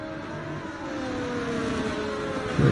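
Race cars on the formation lap of a racing video game drone with a steady, close engine whine, holding even and swelling slightly toward the end, with no voices.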